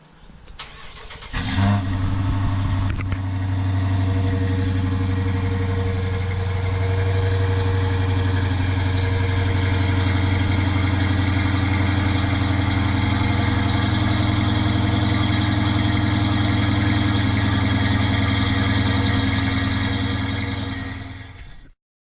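A 2015 Dodge Challenger R/T remote-starting with a brief crank, its engine catching with a loud flare and settling into a steady, deep idle that rumbles on close by for about twenty seconds, no talking.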